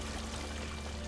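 Water runs from a bath or shower in a video game, a steady, faint rushing pour with a low hum beneath, heard briefly and alone.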